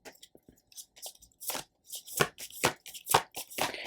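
A deck of tarot cards being shuffled by hand, with a series of quick riffling and slapping bursts, close and crisp, growing denser and louder toward the end.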